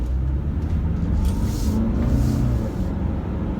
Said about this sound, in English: let's take it out and get a little bit more speed up here.